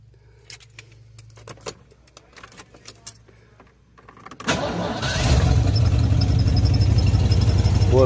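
Keys jingle and rattle close by, then a car engine with a just-repaired exhaust header leak cranks and catches around midway and settles into a steady, loud idle.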